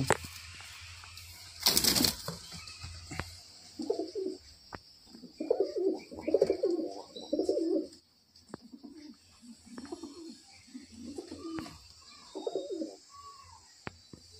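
Pigeons kept for sale, Giribaz, Madrasi and highflyer breeds in Murshidabad, coo in a steady run of soft, throaty bursts close by. One sharp flutter of wings comes near the start. No one speaks.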